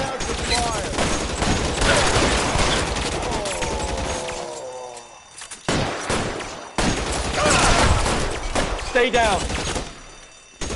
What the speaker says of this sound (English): Come on, make a push for the building. Lay down some fire.